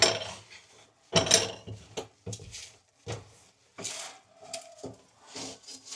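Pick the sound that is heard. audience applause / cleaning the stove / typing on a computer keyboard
cleaning the stove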